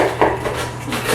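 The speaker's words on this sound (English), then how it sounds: "So I'm going to cut it in half. We've got a good sharp knife." A sharp knife slicing through a whole head of cabbage on a board, one crisp crunching cut with a brief scrape of the blade, close and alone.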